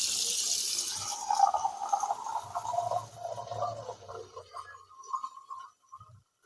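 Tap water running into a sink to wash white oyster mushrooms, a loud steady gush at first that turns splashy and bubbly as the container fills, then tapers off and stops near the end.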